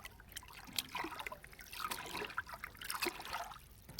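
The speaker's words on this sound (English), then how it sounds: "The stirring of the water" Water stirred around ice, giving a light, continuous trickling and sloshing with soft splashy bursts at moderate closeness and no voices.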